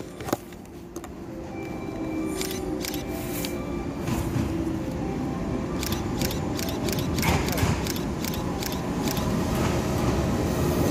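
Series 381 Yakumo limited express train in JNR livery pulling into a station, a steady mechanical rumble with rattling wheels and squeaks, plus a few high clicks and tones, heard close on the platform.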